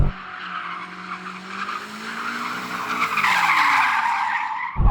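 A BMW M5 Competition drifting in circles, with tyres squealing and skidding in a sustained rising howl over the engine's strained note, close and loud, swelling near the end before cutting off abruptly.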